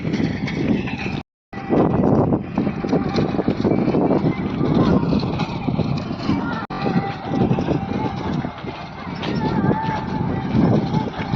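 Steady loud rumble of a tractor working a rotavator in a field, with a brief dropout near the start; the engine and tilling clatter continue unbroken afterward, and a voice comes and goes over it.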